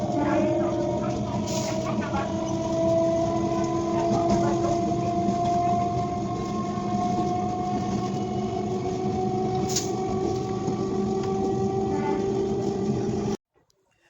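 Howrah–Bareilly weekly superfast express train (12353) running, a steady loud rumble of wheels and carriage hum that carries on without a break, with a brief higher squeal now and then, before cutting off near the end.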